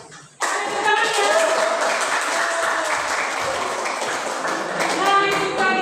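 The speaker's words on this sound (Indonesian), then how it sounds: "Oke, boleh tepuk tangan. Tepuk tangan ya." A group of people applauds after group project presentations, with steady, dense hand clapping that starts abruptly and keeps going evenly for several seconds.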